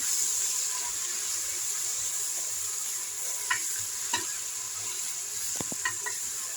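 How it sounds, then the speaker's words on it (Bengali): Ginger-garlic paste frying with beef for korma gives a steady hiss and sizzle, broken now and then by soft clicks of a stirring spoon against the pan, with no speech. "আদাটাকেও নেড়ে চেড়ে নিচ্ছি"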